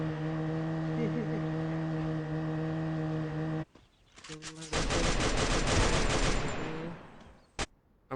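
Rapid automatic gunfire in the Free Fire video game erupts in dense, loud bursts after a steady droning engine tone, with a sharp single shot near the end.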